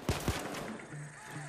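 A couple of sharp gunshots aimed at security guards during a Payday 2 mall heist, two quick close bangs followed by quieter scattered hits and low game ambience.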